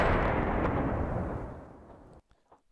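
A single heavy cannon or gunfire blast in the Men of War: Assault Squad 2 war game, loud at first and then rolling away over about two seconds before falling almost silent.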